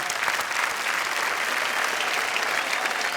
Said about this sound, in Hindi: एक बार जोरदार तालियां फिर इनके लिए